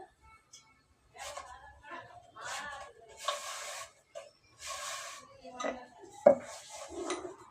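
Chapati roasting in an oiled pan on a home stove gives soft sizzling and scraping with intermittent clinks of utensils against the pan, plus a sharp metallic knock near the end; a voice talks in places.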